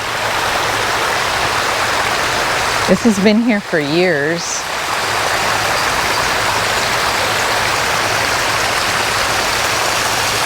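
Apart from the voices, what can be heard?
small garden waterfall with water rippling down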